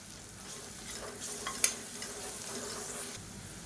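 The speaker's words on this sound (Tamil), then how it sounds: "இப்போ இஞ்சி பூண்டு பேஸ்ட் நல்லா வதங்கிருச்சு." Ginger garlic paste frying in oil in a pan while being stirred, as part of a home-style Tamil lunch of dal curry and potato-pea masala; a soft, steady sizzle runs throughout with one sharp clink midway.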